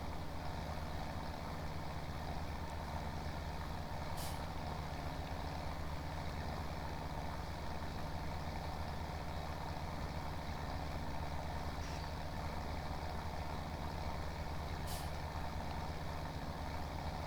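A 180-horsepower tractor in Farming Simulator 17 drives in high gear, its engine droning steadily and loudly without pause, a couple of faint brief clicks riding on top, no voices.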